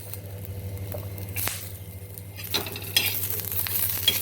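Garlic frying in a pan, a soft sizzle with a few spoon scrapes and taps close by, growing busier toward the end over a low steady hum.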